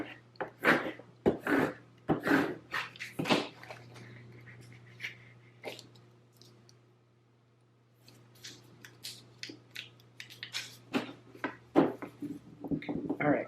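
Cricut vinyl being burnished onto low tack transfer tape: repeated short scraping and rubbing strokes, close and fairly quiet, in uneven bursts with a quieter pause midway and a faint steady hum underneath.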